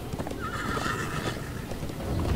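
Horse neighing and whinnying with clip-clop hooves during a chase in the video game Minecraft Story Mode, a clear drawn-out whinny near the start over steady galloping and ambient game sound, with no talk.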